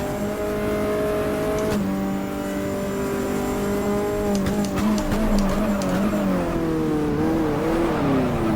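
A race car engine in GTR2 is driven hard at Fuji Speedway, holding a steady, loud, high engine tone that shifts abruptly, then rises and falls through revving gear changes, with faint tire noise underneath.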